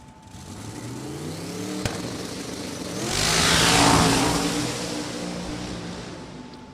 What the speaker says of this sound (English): You heard the whoosh out of the car as it started to make horsepower there. The turbo kicking in.